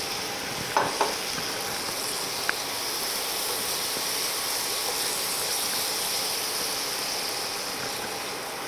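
Spice masala of red chili powder and kitchen king masala sizzles in a pan as a little water is added and stirred, giving a steady hissing fry with a few faint clicks early on.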